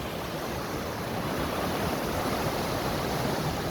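A large volume of river water rushing under Sunderland Bridge, a steady dense roar of broadband noise that stays even and unbroken throughout, with no voices.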